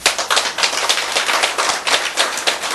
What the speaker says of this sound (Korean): 박수쳐요.